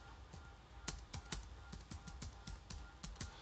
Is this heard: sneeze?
no